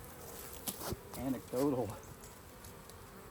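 Honey bees at a hive during a honey harvest buzz faintly and continuously in the background while a person speaks briefly over them.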